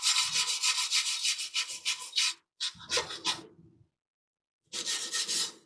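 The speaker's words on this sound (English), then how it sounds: "A little bit of 400 grit sandpaper." Fine 400-grit sandpaper rubs briskly on the metal contact points of a rear drum brake backing plate. The rapid back-and-forth scratching strokes come in short bursts with brief pauses, close and fairly quiet.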